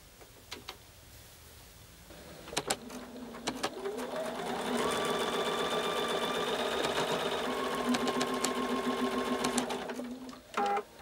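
A sewing machine chain piecing a windmill quilt block runs steadily for several seconds, a close rhythmic stitching hum that rises and holds before stopping, with a few clicks and handling taps around it and no talk.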